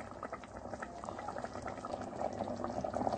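Sardine curry with tamarind juice and potatoes bubbles steadily in a pot, a close, continuous boiling burble that grows slightly louder toward the end, with no voices.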